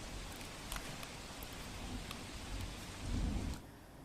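Heavy monsoon downpour over Banaskantha, a dense steady hiss of rain with a few sharper splashes and a swell of heavier pouring near the end before it eases.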